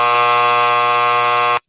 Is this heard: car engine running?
no